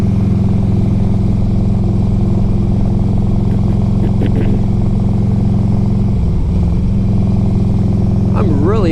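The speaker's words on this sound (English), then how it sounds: "I'm really enjoying riding this bike." A 2004 Harley Davidson Electra Glide Ultra Classic rumbles steadily while being ridden, a loud continuous low engine drone with wind, briefly dipping and shifting near the end, with someone talking over it.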